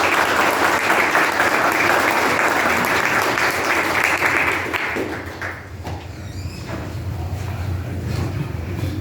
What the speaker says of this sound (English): Jared was actually clapping on the video for you